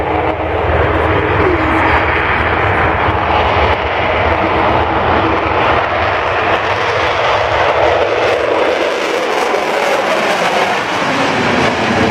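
A loud, continuous jet engine roar from an Avro Vulcan bomber taking off at the 2012 Farnborough Air Show fills the whole stretch, a thick rumbling wash of power that stays steady and close throughout.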